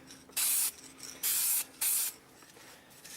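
Spray paint coating an RC car's chrome light bar lens, three short close hissing bursts separated by brief pauses.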